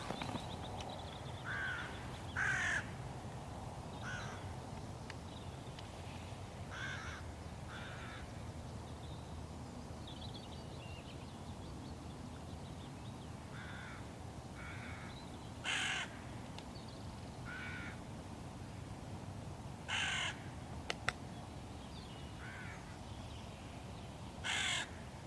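Hooded crows caw in several short, separate bursts at a moderate distance over a steady low outdoor background, with long quiet gaps between calls.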